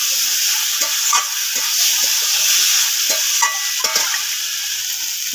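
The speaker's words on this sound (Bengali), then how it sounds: "মশলার মধ্যে কচুরলতিগুলো দিয়ে দেবো।" Taro stolons are stirred into a spice paste frying in a pan, a bright continuous sizzle broken by repeated close clacks and scrapes of the spoon against the pan.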